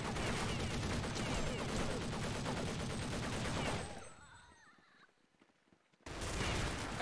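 Dense, continuous automatic gunfire in a Counter-Strike Nexon match, a loud rapid burst that drops away into near quiet for about two seconds before another loud burst starts up again.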